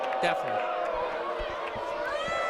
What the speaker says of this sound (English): Belmont crowd does not like it